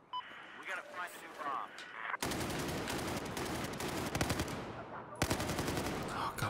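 Automatic gunfire in Battlefield 4 during Obliteration mode, sustained bursts of rapid shots, loud and close, broken by a brief gap, with a player's voice speaking over parts of it.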